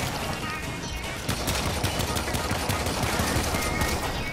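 Player's gun in Warframe firing nonstop: rapid, loud automatic gunfire with a dense, rattling rhythm that continues throughout, close and unbroken, and no talk.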